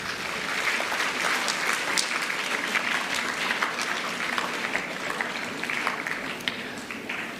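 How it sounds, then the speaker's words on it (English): An audience at a Founder's Day event claps in a steady, dense round of applause that holds evenly for several seconds without a break. "Shall we give them a round of applause,"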